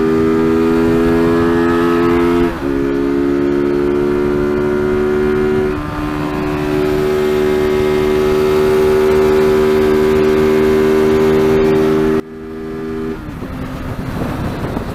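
An Apache RTR 200 motorcycle pulls out to overtake on a highway, its engine a loud, steady drone with a pitch that climbs and holds, dropping briefly after a gear change near the end under constant wind rush.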